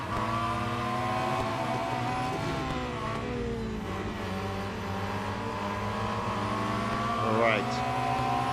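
Engines from a crowded pack of race cars in the mobile racing game Real Racing 3, a steady layered drone of motors running throughout with a brief rising whine near the end.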